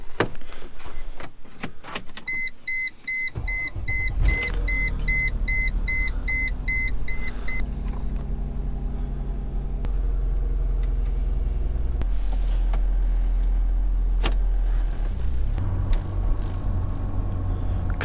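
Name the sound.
1998 Mercedes E320 wagon driving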